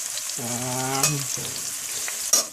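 Food frying in a pan gives a close, continuous sizzle, joined briefly by a humming tone and a couple of sharp clicks from utensils.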